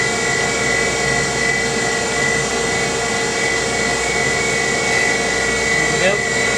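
A surface grinder runs steadily in a machine shop, giving a continuous whining drone with steady tonal hums and a brief rising squeal near the end.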